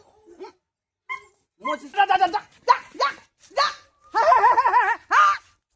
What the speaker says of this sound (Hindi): देखो देखो, कुत्ता भाग गया, कुत्ता भाग गया